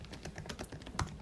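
Rapid typing on a computer keyboard, a steady patter of key clicks with a few heavier strokes, close and moderately quiet, with no one talking.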